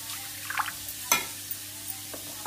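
A little water goes into North Karnataka style brinjal curry frying in a pan, with soft sizzling and stirring scrapes and one sharp hiss partway through, quiet and close.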